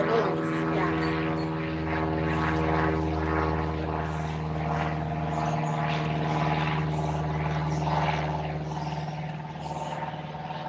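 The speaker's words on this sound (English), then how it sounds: "I live close to the airport, so that is the airplane right there." A propeller airplane flies low near an airport beside a residential area, its steady loud droning engine hum holding at an even level for the whole stretch.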